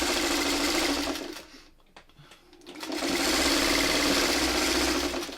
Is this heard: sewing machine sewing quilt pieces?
yes